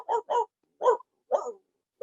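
A man imitates a dog with his voice, giving four distinct bark-like yaps in an uneven rhythm, close and fairly loud, with brief silences between them.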